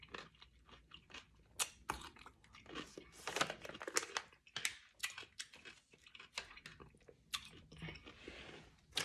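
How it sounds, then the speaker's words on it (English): Close, crisp crunching of a snack being chewed, repeated bites in an irregular rhythm with no talking. "One thing I like about this little snack is that it's crunchy"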